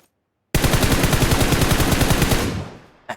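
Automatic gunfire in the mobile battle royale game PUBG Mobile: a loud, close, sustained rapid burst of shots lasting about two seconds, fading out at the end, then a brief clack, with no talk over it.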